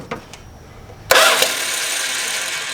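Slant Six engine on a classic car rebuild, a faint tick or two, then the starter kicks in with a sudden loud burst and a steady whirring crank that keeps going to the end.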